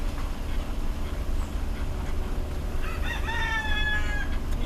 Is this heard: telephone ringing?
no